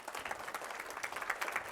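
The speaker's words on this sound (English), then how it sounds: "Give them a round of applause for" A keynote audience applauds with brisk, steady clapping at moderate volume, a crowded patter of hands continuing without pause.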